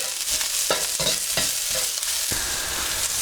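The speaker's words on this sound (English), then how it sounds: "And in goes the onion. Cook this for about a minute." Chopped onion stir-frying in a very hot pan for a Chinese takeaway dish, loud steady sizzle broken by several scraping stirs, with no talk.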